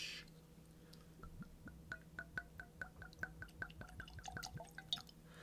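Whisky is poured from a bottle into a glass, a quiet run of rapid gurgling glugs and splashes, close and faint, with no talking over it.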